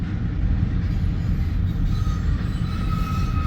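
A long freight train with multiple locomotives, four at the head and two mid-train, rolls past at Fremont, Nebraska, its steady loud rumble and rail noise continuous throughout with a faint high wheel squeal toward the end.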